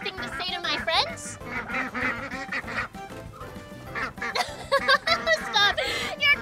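Fuzzy ducks quacking in a lively children's nursery-rhyme song, repeated quacks mixed with bright music and cheerful sung and spoken voices throughout.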